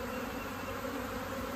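A honey bee swarm fanning near a tree as it is hived, giving a soft, steady, continuous buzzing drone.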